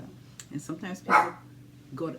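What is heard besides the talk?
dog barking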